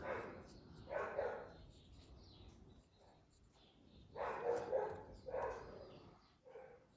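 A neighbour's dog barks at a distance in a quiet suburban room, two pairs of muffled woofs separated by a few seconds of stillness and faint background noise, followed by a brief squeak.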